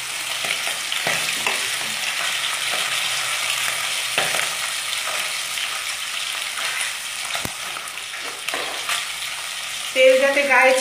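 Rohu fish head frying in hot oil gives a steady, dense sizzle throughout, close and fairly loud, with brief stirring clatter and a louder spatter near the end.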